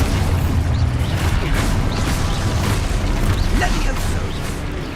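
An Expulso spell blast in Hogwarts Legacy rumbles as a dense, continuous roar of explosive booms and crackling debris, loud and sustained throughout with a voice faintly mixed in.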